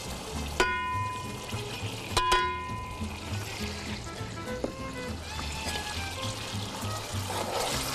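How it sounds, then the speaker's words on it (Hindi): A little water is poured into a stew pot during mutton or beef stew preparation, producing a steady, quiet trickle with a few sharp clinks of utensils against the pot. "ज़रा सा पानी डालूंगी मैं इसमें"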